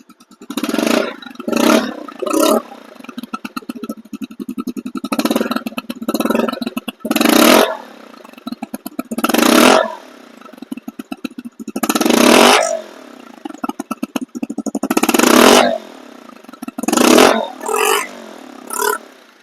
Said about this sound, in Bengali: কি বুঝলেন এই বাইকটি কিন্তু সাউন্ড একদম নিখুঁত